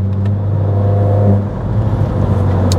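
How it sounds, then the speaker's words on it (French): A Renault Mégane 4 RS engine drones steadily under load, then its tone drops midway as it shifts up a gear and continues pulling, heard from inside. "ce petit bruit quand on passe le rapport supérieur"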